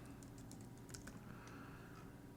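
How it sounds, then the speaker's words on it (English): A computer keyboard is tapped quickly as a password goes in, producing a run of light, rapid clicks over a steady low hum. The keystrokes sound soft and somewhat distant, with no speech. "From here, we can type in a password for the user account that we're creating."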